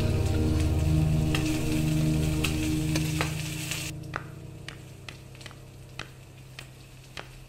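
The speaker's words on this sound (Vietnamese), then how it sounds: "Tỷ chiên cá thu cho em ăn cơm." Mackerel frying in a pan gives a loud, steady sizzle that thins out halfway through, leaving quieter crackles and sharp clicks of utensils against the pan.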